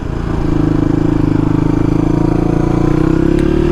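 Steady single-cylinder thump of a Suzuki DR250 enduro motorcycle engine on the road during a work commute, holding an even, loud drone with a slight rise in pitch near the end.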